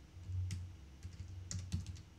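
Computer keyboard keys tapped in a few quick clusters while entering a git cherry-pick command, soft close clicks with short pauses between bursts.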